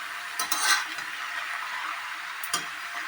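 Thankuni (Centella) greens being sautéed in a pan without salt or spices, with a soft steady sizzle broken by two short scraping stirs of a spatula.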